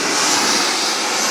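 An RC F-16 model jet with a Chetzmont M100XBL turbine engine makes a steady, loud, close roar and hiss with no pauses, at a jet model show.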